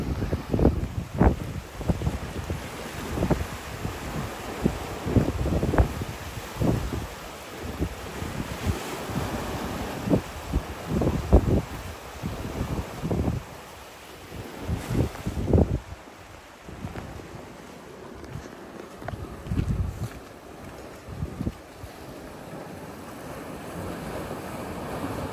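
Strong sea wind gusts across a fishing port, buffeting the microphone in repeated roaring bursts over a constant rushing background.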